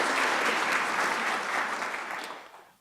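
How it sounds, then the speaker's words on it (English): Sustained clapping from a seated crowd at a medical college investiture, a thick even round of applause that holds steady before thinning and fading out near the end. "He deserves a round of applause"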